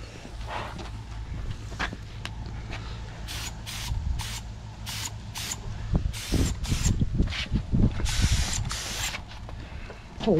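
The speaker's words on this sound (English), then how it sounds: "Lay it on the car. Go spray the car." A spray gun hisses in a series of short bursts, some quick and some longer, with handling noise and knocks in between, while spray painting a car.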